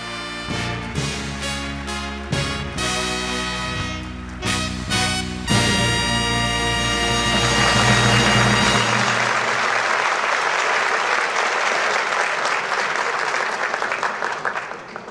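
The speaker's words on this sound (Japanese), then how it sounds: "皆様盛大な拍手をお願いいたします" Tonal music plays at a Tokyo Junior Chamber January general assembly ceremony, then gives way to broad, loud applause from a large hall audience that swells and continues steadily to the end.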